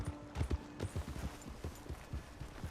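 Horse hooves clip-clop in the video game Red Dead Redemption 2, an uneven run of soft, close thuds at a walking pace. Faint ambient background sits beneath them, with no speech.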